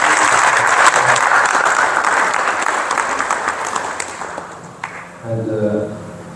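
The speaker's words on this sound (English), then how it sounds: "give Maharaj a nice round of applause" Audience applause at an ISKCON gathering in Durban honoring a visiting swami, loud and steady clapping from a crowd for about five seconds, then fading as a low voice and tonal sounds enter at the end.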